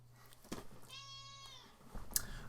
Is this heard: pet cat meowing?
yes